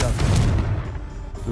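A Confringo fire spell blast in the video game Hogwarts Legacy, a loud booming impact at the start that rumbles and fades over about a second.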